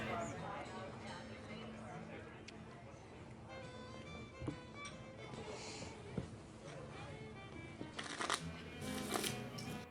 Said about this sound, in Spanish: Puedes barajar esas cartas todo el día